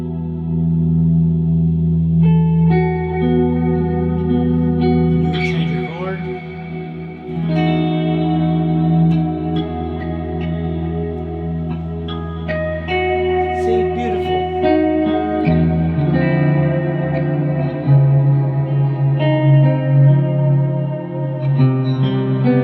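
An electric guitar swells in through a pedalboard of delay and reverb effects in a praise and worship rig, sustained chords building into a loud, echoing wash that carries on throughout.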